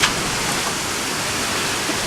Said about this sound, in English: Here comes the high winds and rain right now.